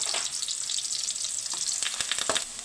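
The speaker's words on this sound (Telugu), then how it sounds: "ఆనియన్స్ బాగా ఫ్రై అయిపోయి" Onions and curry leaves fry in a hot pan for tomato rice, giving a steady, close, bright crackling sizzle with a few sharper pops toward the end and no talking.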